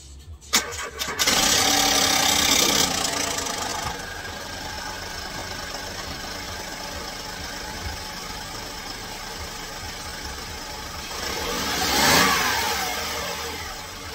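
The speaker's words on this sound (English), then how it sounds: "I will start the car now, let it run for a couple of seconds and then turn it off" A 2005 VW Polo, apparently never serviced, cranks briefly and fires up, revs, then settles into a rough, uneven idle that runs steadily close by, with a slight rise in engine noise near the end.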